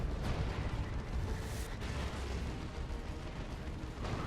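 Heavy cannon fire from an Assault Cannon Dreadnought in Dawn of War 2 battling a Great Unclean One, a dense, continuous roar of rapid booms and explosions filling the battlefield without pause.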